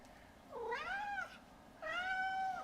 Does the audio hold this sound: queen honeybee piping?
no